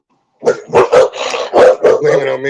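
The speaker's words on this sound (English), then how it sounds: "That's a dog." A dog barks in a quick series of loud, close yaps indoors, mixed with people talking.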